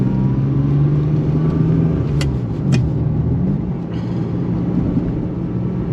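A Ferrari 550 Maranello's engine revs loudly and close, its droning note dipping and climbing again as it shifts through gears, with a couple of sharp clicks midway.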